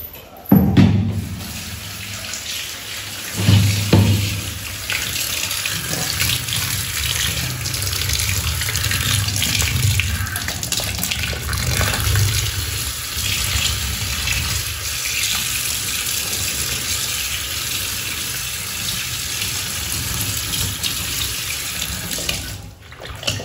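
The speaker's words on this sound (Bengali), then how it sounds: "শাকগুলো ধুয়ে নিই" Water from a tap runs steadily and fairly loudly as spinach is washed, with a few louder splashes and handling bursts near the start, alone and close throughout.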